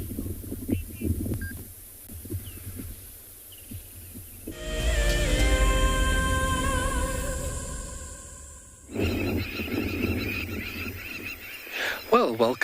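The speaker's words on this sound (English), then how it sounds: "We were just appreciating all the bird life and the sounds" Birds calling at a Kalahari watering hole at sunset: a long run of sustained tonal, honking calls in the middle, framed by scattered chirps, rustling and quieter background activity.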